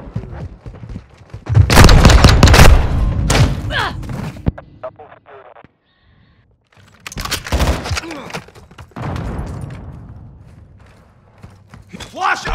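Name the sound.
flash grenade and gunfire in video game Call of Duty: Modern Warfare II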